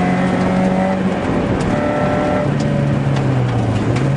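A rally car accelerates hard on a special stage of the Lausitz Rallye at Reichwalde, its engine droning loud and close as the pitch climbs and falls between gear changes, with faint gravel and wind noise underneath.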